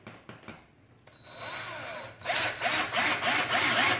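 A power drill whirs up in a few short bursts, then drives a screw into the wooden frame of a clothes drying rack with a loud, steady, whining grind.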